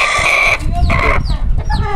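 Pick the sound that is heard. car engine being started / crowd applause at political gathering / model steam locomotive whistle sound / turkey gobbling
turkey gobbling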